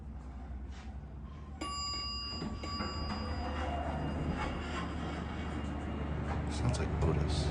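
An original Otis traction elevator runs in a hospital office building, giving a steady mechanical hum and whine with a brief chime-like ding early on, while a person speaks over it.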